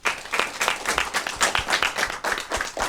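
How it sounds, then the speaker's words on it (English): A small audience at a panel on Black men navigating tech claps for the panelists, the individual hand claps distinct and fairly close, arriving in quick, uneven pulses with no talk. "let's give a round of applause to the panelists"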